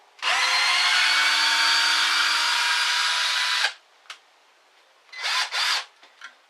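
A Ridgid R82007 12-volt pocket drill driving a screw, one sustained loud motor whine lasting several seconds that then stops, followed by a few short bursts of the motor nearby.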